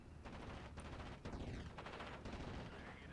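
Aircraft strafing gunfire from an ME-109 fighter in the WWII strategy game Steel Division: Normandy '44, hitting a retreating recce carrier on a road: dense, continuous rattling bursts with sharp cracks over a sustained roar, loud throughout.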